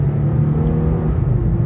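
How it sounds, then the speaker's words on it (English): A 2015 Infiniti Q50 sedan accelerates hard, its engine giving a steady, loud rumbling drone heard from inside the cabin with no talking. "Let's give it a little gas."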